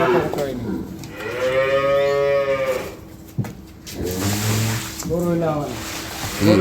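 Dairy cows at a Bangladeshi agro farm selling high-quality milk cows and calves, loud close moos rising and falling, two long calls with a short gap between them.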